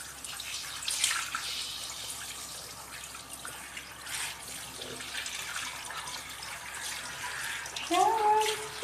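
A shower runs steadily while a pet is bathed, the water hissing continuously with faint splashes and a slight swell near the end. A voice can be heard faintly at moments.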